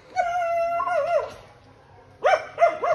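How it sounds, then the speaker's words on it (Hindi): A dog howls outdoors at night in the rain, with long wavering tones close by, a pause, then two more rising howls. "कुत्ता आ गया।"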